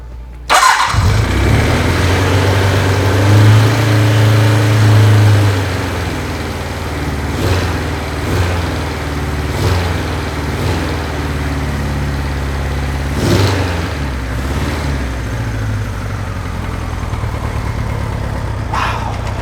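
Kawasaki Z2 motorcycle engine cranked cold on full choke, catching with a sharp start and settling into a loud, close idle, broken by several quick throttle blips and revs; no talking.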